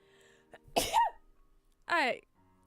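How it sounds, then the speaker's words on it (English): A close indoor sneeze comes as a quick sharp burst, followed a moment later by a second short voiced outburst, with quiet room tone between them. "This time it was a sneeze."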